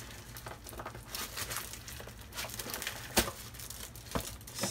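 Mail packaging being cut open and unwrapped, close crinkling and tearing of wrapping with a few sharper rips and crunches scattered through, no voices.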